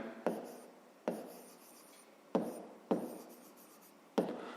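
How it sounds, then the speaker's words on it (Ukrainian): Pen on paper writing out a math task by hand, five distinct scratchy strokes spaced unevenly, close and fairly quiet. "Отже, записуємо перше завдання. Пишемо нехай."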